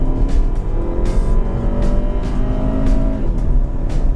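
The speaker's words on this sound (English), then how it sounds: "There comes the turbo." A turbocharged 2014 Volkswagen Jetta accelerates hard from 0 to 60 mph, its engine note rising steadily in pitch as the turbo comes in, loud and close with brief dips at gear changes.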